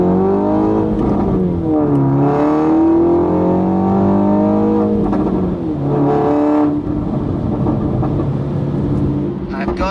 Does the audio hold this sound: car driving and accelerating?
yes